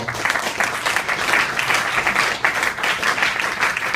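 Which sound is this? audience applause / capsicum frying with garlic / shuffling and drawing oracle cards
audience applause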